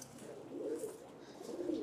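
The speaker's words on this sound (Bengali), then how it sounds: "এটা হচ্ছে একটা ডান কালার, গোল্ডেন ডান বুদাপেস্ট একটা মাদি কবুতর" A female golden dun Budapest pigeon gives soft, low cooing sounds, faint and close, in an otherwise quiet setting.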